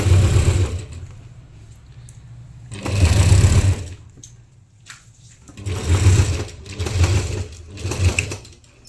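Sewing machine stitching fabric for a simple jabba garment, running in loud, close bursts of a couple of seconds each, separated by quieter pauses.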